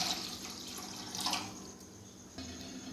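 Water is poured into a pan set on a gas stove, a soft, fairly quiet splashing and trickling stream lasting a few seconds and then easing off.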